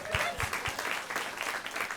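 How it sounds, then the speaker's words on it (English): Studio audience clapping at a comedy podcast-style talk show taping, a short burst of applause with a few low thumps, fairly close and steady over two seconds, with faint voices mixed in. "Clap if you've ever heard of Houdini."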